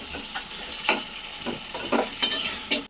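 Chicken pieces sizzle in hot oil with onions and green chillies, with irregular scraping strokes of a spoon against the pan and a steady frying hiss, close up.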